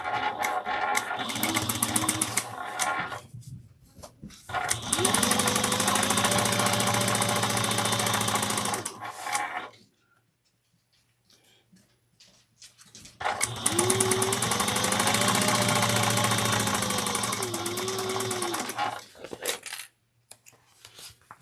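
A sewing machine top-stitches a bag in two long runs of rapid, loud stitching, each rising and falling in motor pitch, separated by quiet pauses, close by with no talk.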